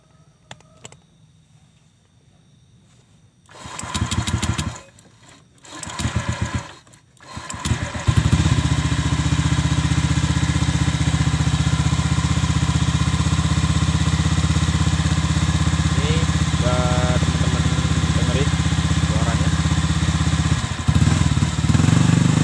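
Honda Vario 125 scooter fitted with a CLD exhaust, worn baffle still in place, idling close by with a steady, deep, unbroken drone after a few short revs at the start.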